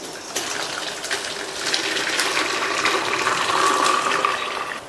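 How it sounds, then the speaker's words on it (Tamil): Water from blanched palak spinach pours and gushes out as it is strained, a steady splashing stream that swells after a moment and runs continuously, close and fairly loud. "இப்போ இதில் உள்ள தண்ணியை வடிகட்டிக்கலாம்"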